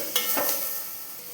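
A spoon stirs spice powder and tomato in a hot pan for a white chickpea curry, giving a brief scrape and two quick stirring swishes over a light sizzle.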